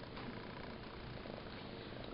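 A house cat purrs steadily and softly up close, a continuous low rumbling texture with no pauses and no voices over it.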